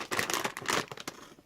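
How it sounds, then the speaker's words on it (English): Scissors snip through the plastic corner of a big bag of Korean roasted corn tea, a close, crinkly burst of cutting and rustling lasting about a second. "I'm going to snippy the corner off of here"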